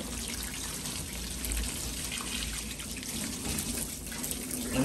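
Water runs steadily from a hose onto clogged sieves, a continuous moderately loud splashing wash with faint trickling and no talk.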